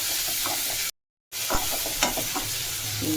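Onion and spice masala with chili powder and garam masala sautéing in a pan, a steady close sizzle with scraping stirs and light clinks, briefly cut to silence before resuming.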